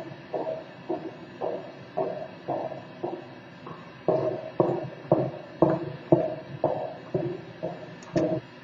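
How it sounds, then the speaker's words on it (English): Footsteps of someone walking in high heels, a steady evenly spaced series of sharp clicks, about two per second, moderately close and alone with no talking. "That would be the sound of someone walking in high heels."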